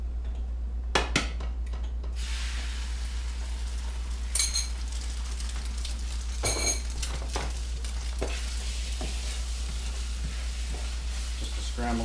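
An egg fries in a little oil in a pan, a steady close sizzle over a low hum, with occasional scrapes and taps from a spatula against the pan.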